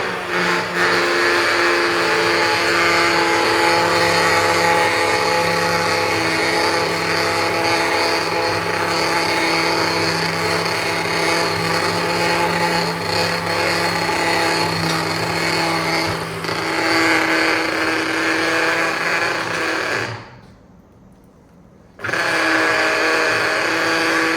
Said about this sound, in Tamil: இந்த டைம் வந்து நான் பிளண்டர் போட்டுக்க போகிறேன்